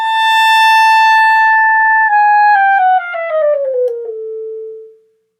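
A solo clarinet plays a cadenza etude passage, starting with long sustained notes, then quickening into faster descending runs while growing softer, ending on a held low note that fades out, played alone and close.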